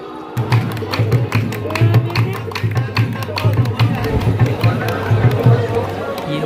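A dense crowd of pilgrims at the Ajmer Dargah shrine in Rajasthan on the Khwaja Sahib's Chhathi day: a steady hubbub of many voices and bustle, with a low droning tone pulsing throughout, close and continuous.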